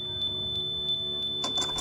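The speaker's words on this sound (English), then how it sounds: "Beep beep." Electronic beeping in the Resident Evil remake, a run of short, evenly spaced high double chirps over a faint steady hum, followed by a brief louder rustling burst.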